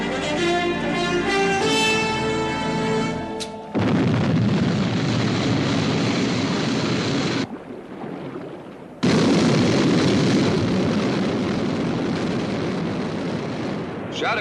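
Sky 1 interceptor liftoff from the UFO series: a rising electronic tone followed by a loud, sustained roaring blast, a brief dip and then a second powerful surge of thrust.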